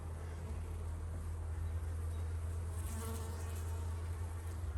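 Honeybees at a hive entrance make a dense, steady buzzing hum, close and continuous throughout, with no voices over it.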